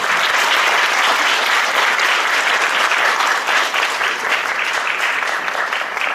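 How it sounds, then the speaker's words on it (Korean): An audience at a talk applauds loudly and continuously, dense clapping that stays strong and fades only slightly toward the end. "여러분 큰 박수로 부탁드립니다"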